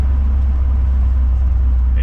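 A supercharged stick-shift Honda S2000 cruising along, its steady low engine drone and road rumble filling the cabin, loud and continuous with no talk.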